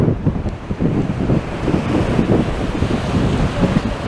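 Sea waves surge and wash against the Blackpool promenade at high tide in blustery weather, with steady wind buffeting the microphone; a continuous, loud roar of surf and gusts, no voices.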